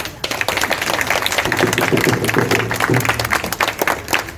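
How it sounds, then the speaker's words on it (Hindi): An audience in a hall claps for a woman honoured for a long fast at a Jain community event, loud, close, uneven applause with distinct individual claps and a low hum beneath. "तालियां बजाओ"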